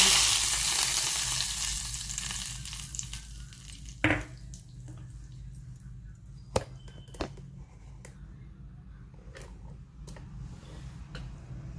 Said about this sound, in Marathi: आता आपण ही फोडणी याच्या ओतत आहोत